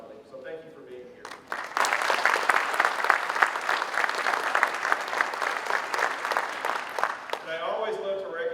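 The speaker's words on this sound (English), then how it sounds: "I want to get a round of applause for any family members that are here." A large audience at a sheriff's office promotion and awards ceremony gives a loud, sustained round of applause for family members. The clapping swells quickly and stays dense for several seconds before easing.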